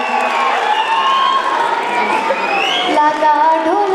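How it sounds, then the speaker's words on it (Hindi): An audience at a school annual function cheers and shouts for the children, a loud continuous crowd roar with high whoops and shrill children's voices layered over it, and clapping is hard to pick out. "जोरदार तालियां बच्चों के लिए"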